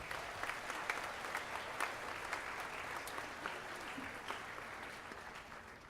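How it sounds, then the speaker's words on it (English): Audience applause at a 7th and 8th grade spring school band concert, a steady wash of many hands clapping with scattered louder claps throughout, moderately distant and continuous for the whole stretch. "give them a nice round of applause"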